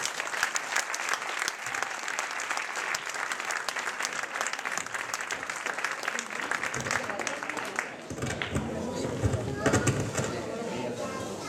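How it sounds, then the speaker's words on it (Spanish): Audience applauding a music group from Nou Barri at an anniversary event, dense sustained clapping close by for about eight seconds, then fading as a voice begins speaking over lingering claps. "Un fuerte aplauso para todos ellos."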